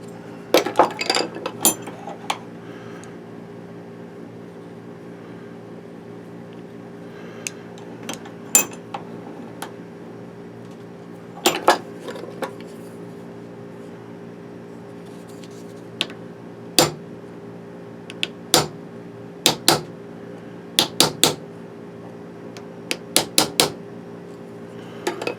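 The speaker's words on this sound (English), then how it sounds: "Just give it a couple of whacks, take it out, turn it, give it a couple of whacks." Repeated sharp metallic whacks on a lens thread repair tool while restoring the threads of an Industar 26 camera lens, arriving in quick clusters of two or three strikes separated by pauses, close and fairly loud.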